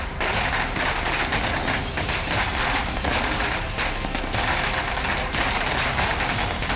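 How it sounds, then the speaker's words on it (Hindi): Firecrackers crackle continuously in a celebration in Badlapur, a dense, steady barrage of rapid pops and bangs with no pause, loud and sustained. "बदलापुर में पटाखे जलाकर जश्न मनाया गया।"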